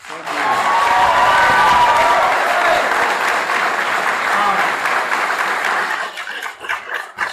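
Audience at a 2018 Texas 7th District Democratic runoff debate applauding the two candidates, a loud sustained round of clapping with light cheering that fades near the end as voices emerge.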